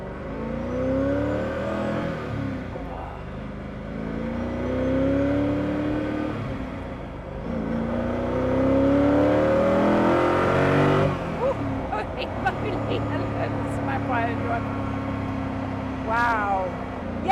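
Koenigsegg CCXR Edition engine revs hard from inside the car, a loud rising drone climbing through the gears with sharp shift breaks and renewed acceleration surges.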